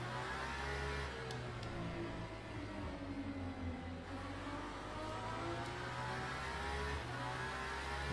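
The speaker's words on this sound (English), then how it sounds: "But the great sound of the car makes up for that." Aston Martin hypercar in the racing game Le Mans Ultimate, its engine revving and howling steadily with rising and falling pitch as it accelerates, loud and close throughout with no talking.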